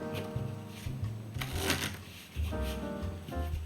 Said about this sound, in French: on va remélanger les cartes. On mélange,